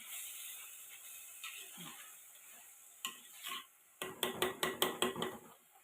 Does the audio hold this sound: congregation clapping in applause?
no